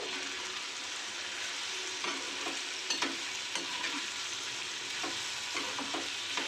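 Eggplant pieces for Mysore badanekai palya being mixed with chili powder, giving soft repeated scrapes and light taps over a constant low hiss, fairly close and quiet.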